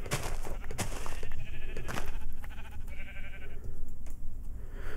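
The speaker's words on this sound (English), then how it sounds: "Sheep! Why you walk into cactus?" Sheep in Minecraft bleat a few times in short calls, close and moderately loud, over game background sounds; one sheep walks into a cactus.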